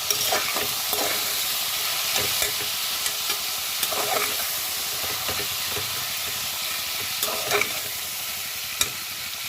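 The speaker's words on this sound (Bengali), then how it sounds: "একটু ভাজা হোক" Low steady sizzle of spices frying in a pan, broken by occasional scraping stirs and a sharp clink of a spoon, no talking.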